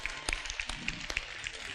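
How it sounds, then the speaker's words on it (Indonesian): A theater audience claps for the actors at an Indonesian stage show, a thin scattering of separate, fairly quiet hand claps in an uneven rhythm. "Kita tepuk tangan dulu nih buat artis-artis kondang kita"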